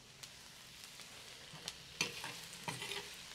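Tomato dropping into softened onion frying in a pan, a low steady sizzle with a few sharp stirring scrapes and clatters, the loudest burst near the middle, no talk.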